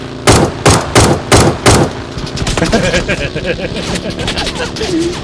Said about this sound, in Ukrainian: як стріляють, ти диви